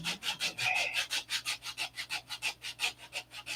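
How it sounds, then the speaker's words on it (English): Wood being sanded by hand in quick, regular back-and-forth strokes, about five per second, close and fairly loud, with no talking. "But I'll keep sanding on it."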